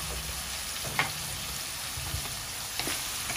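Shrimp simmering in coconut milk in a pan with a soft steady sizzle and two or three light stirring scrapes, moderately quiet, with no one speaking.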